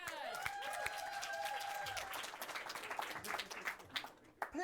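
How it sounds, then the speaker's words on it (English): Audience applause breaks out after an improv comedy game, a dense patter of many hands clapping that fills the room, then thins and fades toward the end while voices start up over it. "A round of applause for the game."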